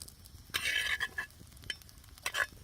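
A spoon scrapes and stirs stone-ground masala with roasted chillies in a pan, giving a few bursts of scraping and soft sizzling, close and moderately loud, with no talk.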